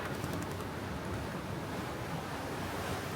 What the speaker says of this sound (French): On a une belle houle quand même de côté